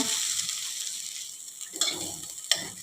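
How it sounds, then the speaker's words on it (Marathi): Grated fresh coconut sizzles and rustles as it is stir-fried in a pan, a steady bright hiss broken by a few scraping stir strokes near the end, close and without talk. "हा चव आपल्याला एखाद मिनिटभर छान असा परतून घ्यायचा आहे"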